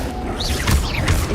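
Confringo fire spell blasts in the Hogwarts Legacy video game, a couple of quick bursting hits with whooshing swells over a steady rumbling game background.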